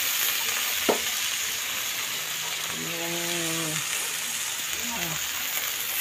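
Pancit noodles with chicken being stir-fried in a pan, a steady soft sizzle with scraping and stirring, a clank near the start and a tonal whine in the middle, with no clear talk over it.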